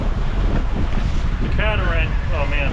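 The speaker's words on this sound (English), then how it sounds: "The conditions would worsen, the waves would get bigger, the wind would increase" Strong wind buffets the microphone while big waves surge around a sailboat off Key West, a loud continuous roar with a person talking over it.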